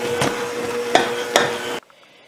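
Red velvet cake batter with butter mixed in a bowl, a steady close scraping stir punctuated by a few sharp clinks of the utensil against the bowl, then cutting off into near silence.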